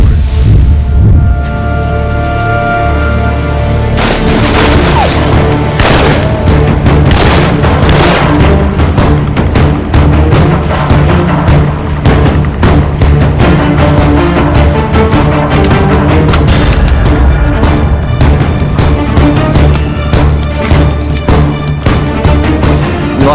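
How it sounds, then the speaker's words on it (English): A loud firefight at a terrorist safe house involving a counterterrorism team in the game Crisis: New York Underwater, with heavy booming explosions and dense bursts of gunfire rolling over a constant low rumble. "A counterterrorism team has been locked in a deadly firefight at the terrorists' safe house"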